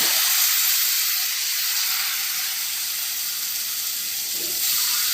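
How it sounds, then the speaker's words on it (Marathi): Water poured into a hot pan of cooking brinjal curry gives a strong, steady hiss and sizzle that fades slightly over the few seconds, heard alone without talk. "यामध्ये आणखी पुन्हा एकदा अशा पद्धतीने आपल्याला पाणी टाकायचं"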